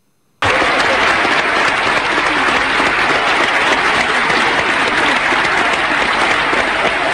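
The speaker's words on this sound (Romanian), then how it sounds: "Niște aplauze." Loud, steady studio-style applause bursts in suddenly after a moment of silence and holds at full strength, a dense wash of many hands clapping at once with no voices on top.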